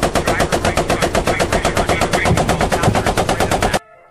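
A tank's machine gun fires in the WWII game Post Scriptum: one loud, close, sustained burst of rapid, evenly spaced shots lasting about four seconds, then it cuts off abruptly.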